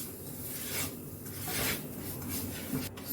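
A ladle scrapes and stirs fine semolina roasting in a pan over a low flame, giving a continuous soft, gritty rasping that swells and fades with each sweep.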